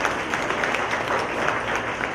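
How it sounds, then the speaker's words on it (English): A comedy-show audience claps together in a steady, dense burst of applause, loud and close, with no clear talk over it. "clap your hands loud and proud if you know that chocolate is poison to dogs"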